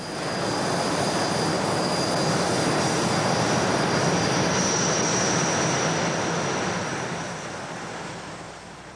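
Snowbirds jet aircraft roar past at a Juneau, Alaska airshow in a loud, steady broadband rush with a faint high whine, fading slightly toward the end.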